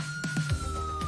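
A wailing emergency siren sweeps steadily outside a hospital, loud and continuous over brief knocks and low rumble, with no voices.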